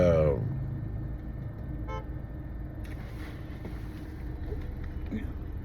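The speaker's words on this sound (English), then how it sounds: "somebody honking" A single short car horn toot sounds early on, followed by steady traffic rumble and background noise.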